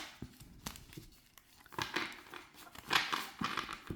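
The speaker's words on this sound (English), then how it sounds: "And let's shuffle." A brand-new, slightly stiff laminated tarot card deck being shuffled by hand, quiet crinkly riffles and flicks in short bursts, close and soft with no talking.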